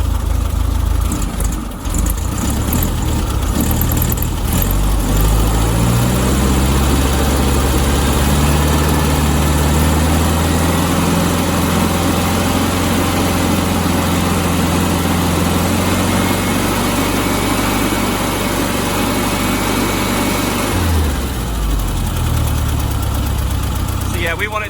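An old Volkswagen Beetle engine idles low at about 750 RPM, a steady loud rumble that runs throughout, with a brief dip near the start and the end.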